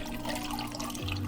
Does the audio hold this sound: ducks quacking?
no